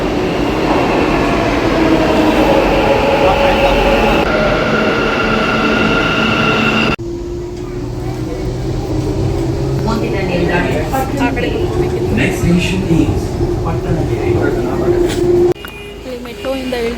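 A metro train ride, with a steady loud rumble of the moving carriage and rising and falling motor whine, then a sudden shift in the noise as it changes near the end.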